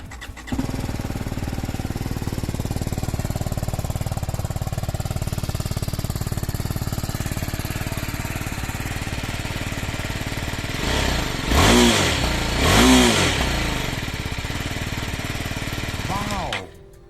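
A 2021 BMW G 310 R motorcycle engine idles steadily and close, a continuous mechanical chug with two brief revs late on before it cuts.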